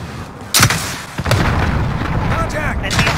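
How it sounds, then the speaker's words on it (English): Allied cruise missile launching in Call of Duty Modern Warfare multiplayer, a sharp loud boom followed by another blast and a rumbling roar, with a brief radio voice. "Allied cruise missile away."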